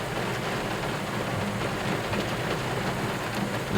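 Heavy rain pours steadily at a muddy dredging site, a dense, even hiss with no breaks and no voices.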